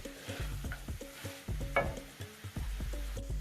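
Grated carrot halwa roasting in ghee in a pan, a steady rhythmic scraping and stirring of a spoon against the metal over a low sizzle, close and continuous.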